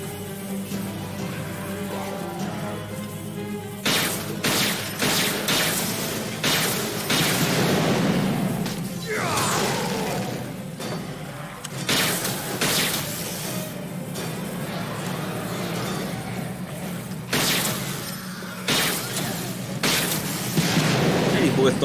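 Repeated sharp gunshots and booming explosions from the video game Dead Rising 4, some in quick bursts, mixed with constant background noise and occasional Hungarian talking.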